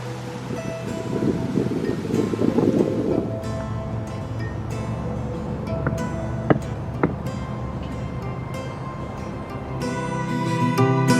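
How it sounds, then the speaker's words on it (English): Broadband wind noise buffets the microphone at Wind Gap, Pennsylvania, gusting harder early on and again at the end, with a few faint clicks between. "Pretty windy."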